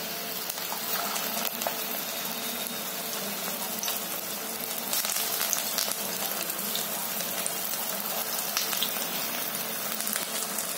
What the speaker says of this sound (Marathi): आता मी फ्राय करायला